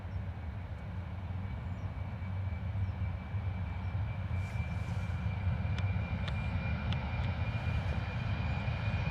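A Ryanair airliner approaches London Luton Airport on a misty day, its engines producing a steady, fairly distant rumbling roar that swells gently, with a few faint clicks and no talk.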